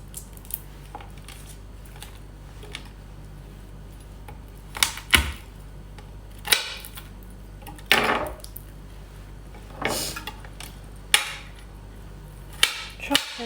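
Garlic is chopped finely with a knife for Chinese New Year dumplings, sharp irregular taps of the blade on a wooden board, some spaced apart and others quick, close and clear.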